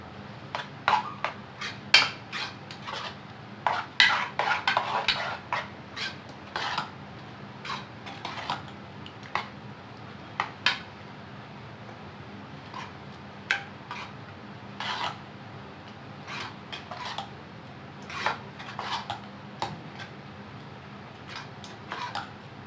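A spoon works suji uttapam batter with grated carrot around a bowl, giving irregular clinks, scrapes and taps against the vessel that come and go in quick bursts, with no one talking.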